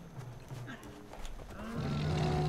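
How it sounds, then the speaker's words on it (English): Goats bleating in the video game Far Cry Primal, a few short nasal calls rising near the end of the clip over steady ambient game noise, with no talk. "Goats."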